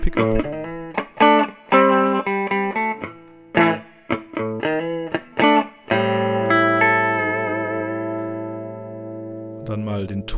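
Bright, slightly gritty homemade electric guitar on its bridge pickup, through an old PV amp, runs through a choppy riff, then sustains a long chord that slowly decays before a final strum.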